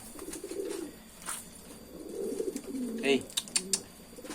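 Racing pigeons kept for breeding coo in a low, throaty, repeated burble close by, with light rustling and faint chirps around them.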